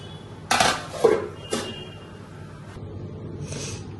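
A pot on the stove is covered with a lid: a few sharp metallic clanks and rattles of cookware, then a quieter clink and a low background hum.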